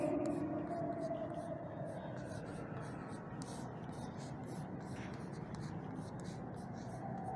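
A formula being written on a board during a physics lecture on atomic spectra: faint, scratchy strokes in quick irregular bursts, quiet and close, over a low room hum.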